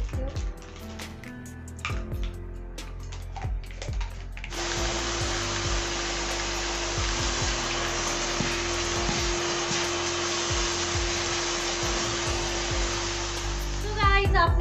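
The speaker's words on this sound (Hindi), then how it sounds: "मैंने किस तरह से अपने वैक्यूम क्लीनर की यूज़ करती हूँ" Vacuum cleaner running steadily while cleaning a fabric sofa indoors, a loud continuous whirring roar that starts abruptly after some handling clatter and holds for about ten seconds before bumps at the end.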